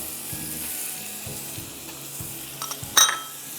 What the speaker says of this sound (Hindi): दोनों को आपको फ्राई करना है ट्रांसपेरेंट।